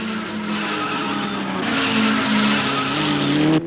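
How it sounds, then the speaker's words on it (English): Loud, sustained squeal of a 1988 Group N race car's locked wheel skidding, grinding a flat on the tyre, with engine drone underneath, the screech rising and wavering before cutting off abruptly. "a locking wheel grinds a flat on his tyre"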